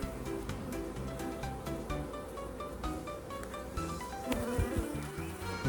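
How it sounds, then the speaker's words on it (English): Honeybees swarm and buzz densely around an open hive frame being inspected, a close, steady, loud hum with individual bees droning past the microphone. "A lot of bees on that one."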